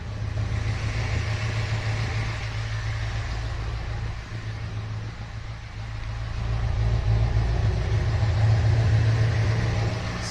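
A Corvette C3 engine idles steadily in a garage with the hood open, a low, even rumble that swells slightly toward the end, with no talking.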